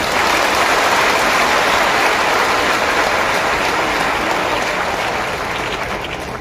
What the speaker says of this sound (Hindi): आप सबके लिए जोरदार ताली होनी चाहिए